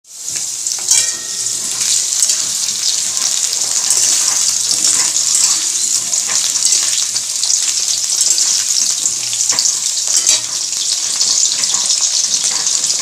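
Potatoes frying in hot oil for a home fish-curry meal, a loud, dense continuous sizzle with faint clinks and stirring beneath, steady from start to finish.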